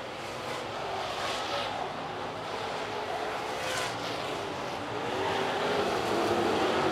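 Street stock race cars roar around the Cherokee Speedway track during a main event, a dense continuous engine drone with swells as cars pass, heard from the distance under crowd and track noise.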